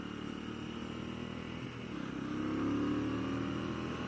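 A 400cc overhead-cam motorcycle engine hums steadily nearby, its pitch climbing briefly as it revs up midway, with no talking.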